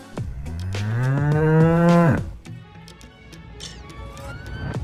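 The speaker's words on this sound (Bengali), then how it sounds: "গরু বাছুর দাঁড়িয়ে রয়।" A cow gives one long, loud, close moo that swells and then breaks off, followed by softer farmyard sounds.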